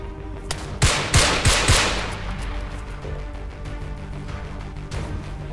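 Gunfire in the military video game Arma 3: a rapid burst of four or five loud close shots in quick succession, followed by fainter scattered distant shots over a sustained background hum.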